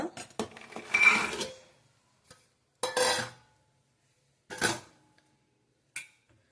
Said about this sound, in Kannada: ಈಗ ಕಾಳು ಹಾಕೋಣ.